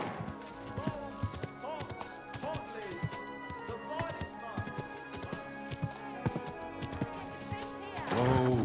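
Steady clip-clop of horse hooves at a walking pace in the video game Kingdom Come: Deliverance II, with a soft whinny near the end, set against a busy musical background.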